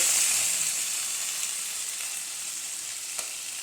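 Star fruit pieces tipped into hot oil with panch phoron and dried chilli for a chutney, setting off a loud, bright sizzle that slowly settles into a steady frying hiss, with one faint clink and no talking.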